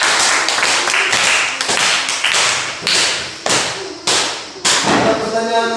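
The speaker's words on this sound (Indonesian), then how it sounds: "tepuk tangan dulu untuk kelompok 2" Classroom applause for a student group, a burst of sharp claps from a room of pupils with uneven rhythm, loud and close, fading into a few scattered claps at the end.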